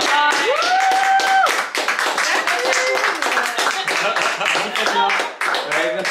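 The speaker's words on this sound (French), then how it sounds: "On peut applaudir Fatia" A small group claps for a home chef at a private dinner, scattered hand claps over lively chatter and a few sung or exclaimed voices, near and informal rather than a full ovation.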